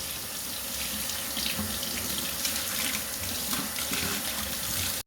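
A kitchen tap runs steadily while a salted tuna is rinsed under it. The splashing is close and continuous throughout, with small shifts as the fish moves under the stream.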